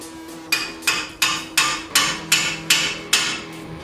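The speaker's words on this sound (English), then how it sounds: "I'll take a hammer and I'll work it down in this wedge here." Sharp metallic hammer strikes on a wedge in the suspension of a 2004-2008 Nissan Murano, eight evenly spaced ringing taps close up, each decaying quickly, with no talking.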